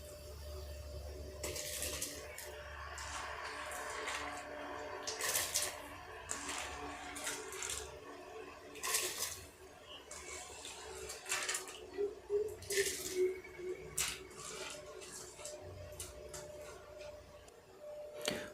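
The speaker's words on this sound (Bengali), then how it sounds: "এরপর আমরা ভিজিয়ে রাখা চালটি ফুটন্ত জলে দিয়ে দিলাম।" Soaked rice is tipped into a pot of boiling water for homemade chicken biryani, with splashing, bubbling water and scattered light clinks and clatter from the pot at close range.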